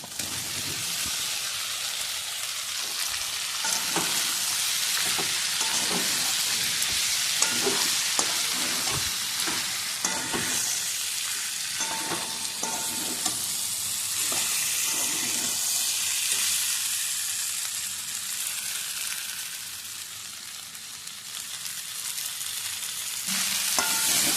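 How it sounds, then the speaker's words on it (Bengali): Meat and potatoes fry in a spice paste, giving a loud continuous sizzle broken by repeated scraping and clacking stirs that come in bursts, then ease to a steadier hiss. "এবারে দিয়ে দেব মাংস আর আলু একসঙ্গে রাখা আছে"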